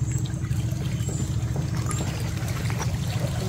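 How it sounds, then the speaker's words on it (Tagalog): Steady running water pours continuously from a newly installed shower set to level 3 in a hut, a dense even rush filling the whole clip at a fairly close, constant level. "Shower power on to the level 3."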